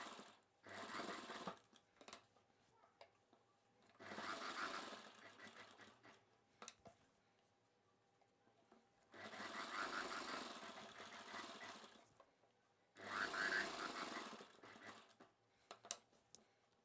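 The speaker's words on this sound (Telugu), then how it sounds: "ఇప్పుడు రెండవ కుట్టు వేసేసుకోవాలి." Sewing machine stitching the seams of an umbrella dress, running in four distinct bursts of steady, rapid needle chatter separated by short pauses.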